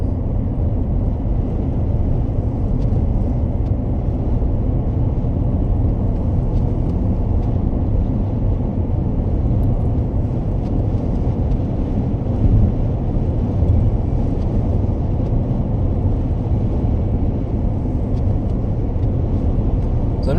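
A Toyota bZ4X electric SUV cruises at speed toward the Harbour Bridge, heard from the cabin as a steady, loud low rumble of road and wind noise with no engine note, unbroken throughout.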